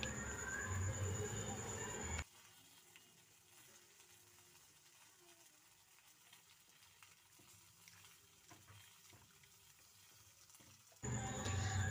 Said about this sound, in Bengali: এবার এই কাটা সবজিগুলো আমি পরিষ্কার জলে ভালোভাবে ধুয়ে নেব